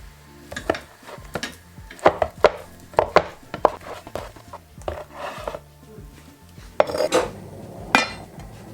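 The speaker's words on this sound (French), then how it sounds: "Là, on va aussi couper en petits." Aubergine is chopped into small pieces with a knife on a board, giving a series of close, uneven sharp knocks with short pauses between bursts.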